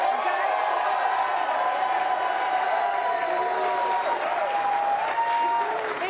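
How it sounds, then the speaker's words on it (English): Studio audience on a sports debate show applauds steadily, a dense, continuous wash of clapping with some cheering and whoops mixed in, loud and close throughout. "let me hear a round of applause."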